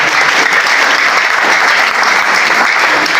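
A church congregation claps hands together in a dense, continuous burst of applause, loud and sustained without a break, with no clear speech over it.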